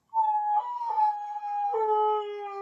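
A female dog howls with a toy held in her mouth: one long, wavering, close and loud howl that shifts pitch partway through, with no talking.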